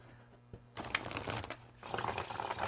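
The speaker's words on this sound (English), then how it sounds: "I'm just going to shuffle, I'll draw, I'll lay out the cards" Tarot cards being shuffled by hand before a reading, giving close papery riffling and sliding in two short bursts separated by a brief pause, with no talking.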